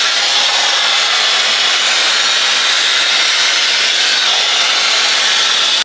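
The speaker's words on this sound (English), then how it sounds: "Highest heat setting, highest speed. Let's do this. Slowly drying my hair." A hair dryer running on its highest heat and speed settings, a loud, steady, close whooshing roar that holds constant for several seconds before cutting off abruptly.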